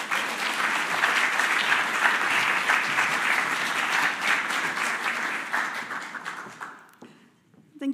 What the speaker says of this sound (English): So please give a warm applause for Eveline Peeters.